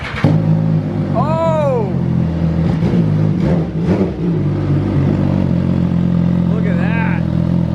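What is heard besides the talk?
MV Agusta F3 motorcycle engine revving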